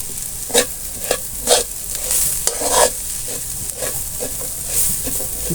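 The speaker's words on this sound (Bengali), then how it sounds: "ভালো করে মিশিয়ে নিব।" Egg and softened vegetables fry in a pan, a steady sizzle broken by repeated scraping strokes of a spatula as the mixture is stirred, close and fairly loud, with no talking.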